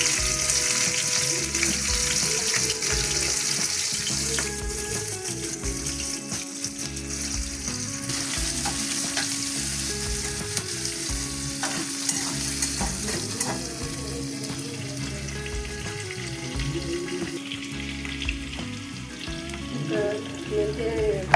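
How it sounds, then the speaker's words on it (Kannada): Onions frying in hot oil for a homemade chicken green gravy, a dense continuous sizzle with crackling and occasional stirring scrapes, steady and close throughout. "ಎಣ್ಣೆ ಕಾದ ಫ್ರೆಂಡ್ಸ್ ಈರುಳ್ಳಿ ಹಾಕ್ತಿದ್ದೀನಿ"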